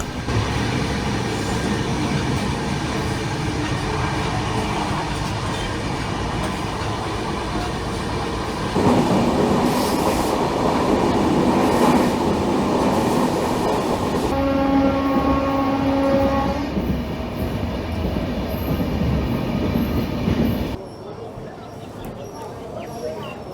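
Passenger train on the Siliguri to Kolkata route, a steady interior rumble of wheels on track with shifting tones as it runs, heard under talking voices in the coach.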